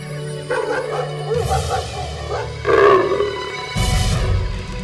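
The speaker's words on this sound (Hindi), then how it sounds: "ये कैसी आवाज? तो लेपर्ड की आवाज है। उसने कुत्ते को भौंकते हुए सुन लिया।" A leopard roars in a wild area of morning butterflies while a dog barks, giving rough, loud, continuous roaring and barking calls that swell in repeated bursts.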